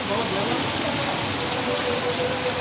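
Sudden heavy rain pours down in a Bangladeshi village, a dense, constant hiss of downpour filling the scene loudly and evenly throughout.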